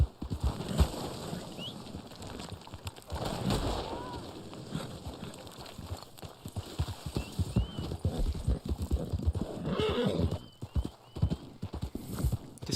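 Horse hooves clip-clop steadily in the Western video game Red Dead Online, with a brief neigh breaking in, mid-level and close under game ambience and occasional talk.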